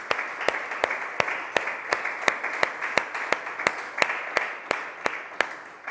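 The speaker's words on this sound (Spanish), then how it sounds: "quiero que le dé un fuerte aplauso a Cristo Jesús" A church congregation claps in steady unison, sharp evenly spaced claps about three per second over a continuous wash of crowd noise, moderately loud and sustained throughout.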